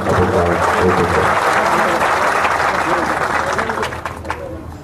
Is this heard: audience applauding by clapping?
yes